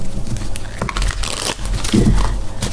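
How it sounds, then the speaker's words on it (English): A brand-new tarot card deck being shuffled by hand, giving soft crinkly riffles and papery flicks in uneven bursts, close to the microphone with no talking. "shuffling this is a little bit difficult"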